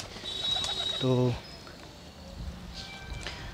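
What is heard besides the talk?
pigeons cooing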